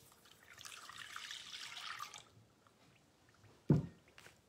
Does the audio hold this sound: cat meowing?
no